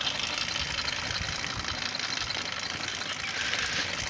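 A small moped engine on a combined moped-bicycle idles with a steady, faint, low rattling chug that stays even throughout and has no other sounds over it.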